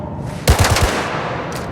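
A loud, close burst of about four rapid gunshots rings out during a gangster video game mission, followed by a fading ringing tail.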